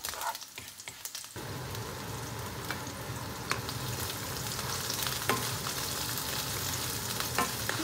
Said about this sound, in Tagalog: Lagay natin ang bawang, ang garlic.